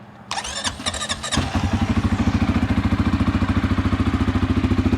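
A starter whirs briefly, then a 2023 CFMOTO CForce 600 ATV engine, in neutral, catches and settles into a steady, rapid idle that chugs on close by.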